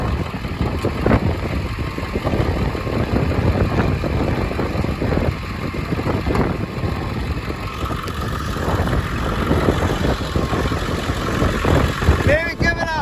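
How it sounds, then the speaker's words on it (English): An off-road rig on a Baja beach camping trip runs its engine at a steady low idle throughout, close and continuous, while people talk over it. "I gotta start my rig"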